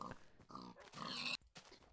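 Pigs in the Minecraft video game give several short, faint grunts in quick, uneven succession.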